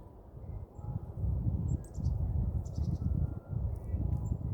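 Wild birds that have just been given food chirp in short, scattered high tweets outdoors, a few small calls rising over a steady low rumble of wind or rustling, faint and at a slight distance.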